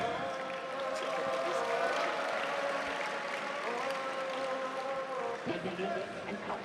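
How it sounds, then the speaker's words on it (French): A crowd at a Nova GP CFJJB jiu-jitsu tournament applauds a competitor, with steady, moderately distant clapping running throughout, mixed with a public-address voice. "On applaudit bien fort monsieur Lucas Gaffet."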